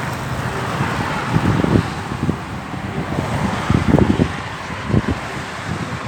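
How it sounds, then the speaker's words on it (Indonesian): Sand-hauling truck passing on a toll road below a bridge, heard as a steady low engine rumble with road noise and heavy wind buffeting, fairly loud and continuous. "Truk mengangkut pasir."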